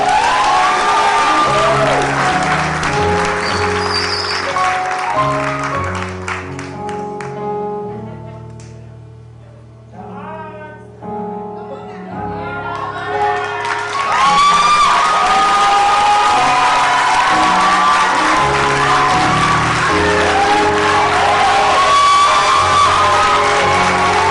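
Festival audience cheers and applauds a musician at an outdoor community event, with loud sustained clapping, whoops and shouting from a large crowd, dipping briefly before swelling again.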